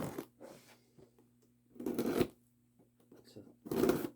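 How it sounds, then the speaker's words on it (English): Cardboard box for a FamilyGard FG888C smoke detector being opened, with several scraping, rustling bursts of cardboard and packaging handled close up, separated by brief quiet gaps. "let's go ahead and open up this box."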